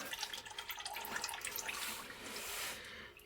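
Engine oil from a Toyota RAV4 Hybrid pours steadily into a drain pan, a continuous close splashing trickle with a gurgling, filling quality throughout.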